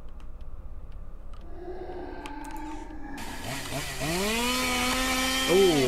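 A chainsaw-wielding enemy in an indie video game revs up, its buzzing engine whine rising and bending in pitch after a quieter start, loud and close.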